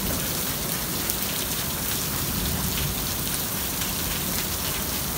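Heavy rain pours down steadily after a long dry spell, a dense, continuous hiss that fills the whole stretch, close and loud, with no voices.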